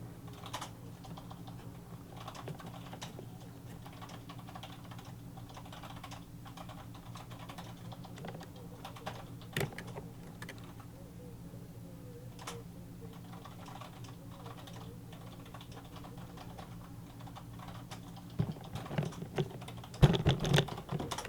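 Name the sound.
typing on a computer keyboard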